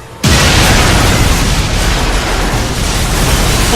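A diamond store blows up in the racing video game Split/Second: a sudden loud explosion bursts in after a brief quiet and rumbles on as a dense, roaring wash of noise until the end.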